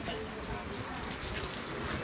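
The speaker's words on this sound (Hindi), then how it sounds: "शानदार बारिश हो रही है।" Steady rain pours down outdoors near a temple in a hilly, Manali-like location, a continuous dense hiss without pauses, fairly loud and close.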